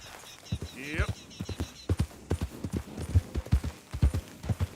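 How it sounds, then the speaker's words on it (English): Horse hooves clip-clop steadily in Red Dead Redemption 2, a rhythmic, close series of thuds at a walking pace, with a brief rising whinny-like sweep near the start. "This is my second horse."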